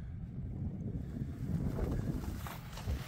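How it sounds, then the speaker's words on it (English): Steady wind rushing and buffeting across the microphone on an Alaskan farm field, a low continuous roar with gusts swelling and easing, no voices. "And it is windy."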